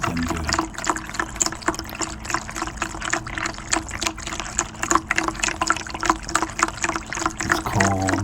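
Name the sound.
water pouring out, pet drinking from the stream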